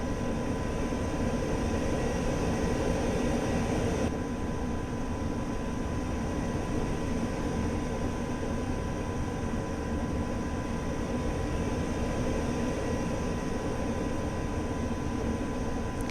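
A single-engine F-86 Sabre jet taxiing onto a runway in the DCS combat flight simulator, a steady broadband engine roar and hiss that holds constant throughout, with a slight change in tone early on as power is added.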